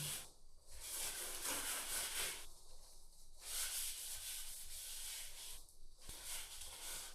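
Dust brushed off the bottom section of a painted tile area in a Portuguese farmhouse, heard as repeated soft hissing sweeps in a loose rhythm with brief pauses, faint and close.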